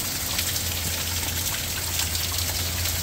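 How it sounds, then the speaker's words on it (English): Heavy rain pours outside in a dense, unbroken hiss of drops with a low steady hum beneath, constant and fairly loud throughout. "Look at this rain out there."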